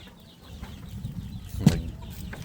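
Backyard chickens cluck softly and sporadically in a mixed flock with ducks and turkeys, with one sharper squawk standing out briefly in the middle over a low rumbling outdoor background.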